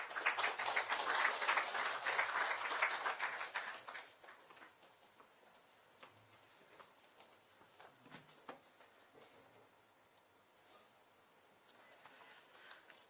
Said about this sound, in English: Please do welcome him with a thundering applause